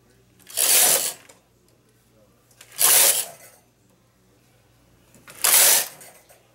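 A knitting machine carriage sweeps across the needle bed three times, each pass a loud rushing, clattering slide lasting about half a second, separated by quiet pauses over a faint low hum.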